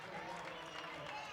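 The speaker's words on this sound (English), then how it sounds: "Nice round of applause for Macy as she hobbles to the bench." A crowd applauds at a women's college basketball game against Tusculum, a steady, moderately loud clatter of clapping that fills the gym without pause.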